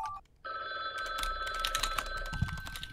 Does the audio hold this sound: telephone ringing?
yes